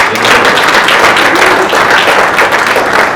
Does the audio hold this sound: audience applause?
yes